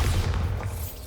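A Bombarda spell explosion in the Hogwarts Legacy video game: a short, loud, low booming burst that fades quickly, heard alone without voices.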